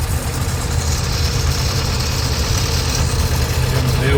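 A tractor with a GM diesel engine idles steadily up close, a loud, deep, continuous rumble with an even throbbing beat that holds at the same level throughout.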